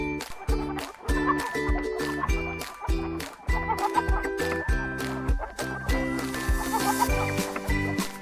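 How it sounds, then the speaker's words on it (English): Chickens clucking in a steady series of short, loud calls with a rooster-like edge, close and continuous with no talk, set to a rhythmic backing. "Chicken."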